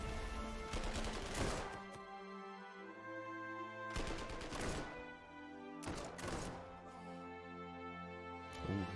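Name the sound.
artillery firing in the video game Panzer Corps 2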